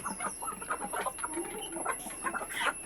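A flock of hens clucking at feeding time, with a steady run of soft, overlapping clucks and chatter at moderate distance over a faint background hum.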